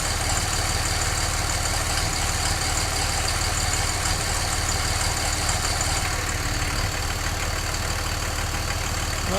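A diesel engine with common rail injectors, at full operating temperature, idles steadily and loudly throughout, with a continuous even rumble and a faint regular ticking pulse; no voices.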